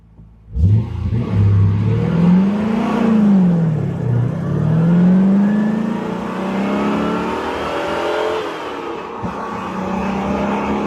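A Corvette C3 with an LT1 engine launches hard from a standstill, its engine note climbing and dropping through gear changes, loud and close with a steady, continuous roar for about ten seconds.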